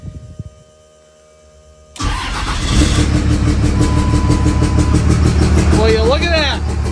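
A car engine cranks and catches after a quiet start, then settles into a loud, steady rumbling idle with some revving near the end.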